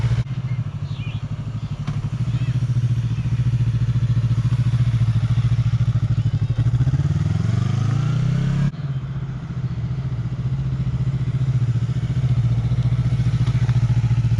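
A Yamaha R3 motorcycle engine runs loud and close, its low drone rising in pitch as the clutch is let out and the bike pulls away, then settling back to a steady note.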